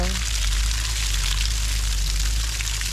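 Water gushes from a newly bought garden irrigation hose in a vegetable plot, a loud continuous rushing pour that never lets up, with a voice talking over it.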